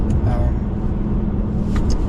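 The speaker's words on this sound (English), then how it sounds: "There is a lot of road noise." A 2021 BMW M3 Competition carries a loud, steady low roar of road noise through the cabin, constant from start to finish.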